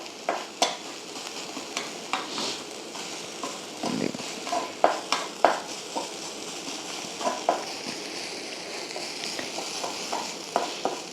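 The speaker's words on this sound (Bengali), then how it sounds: "দেখুন ভেজে নিচ্ছি আমি মশলাটাকে" Spices and ginger fry in a pan for a mixed winter vegetable curry, a soft steady sizzle under intermittent scrapes and knocks of a spoon stirring against the pan.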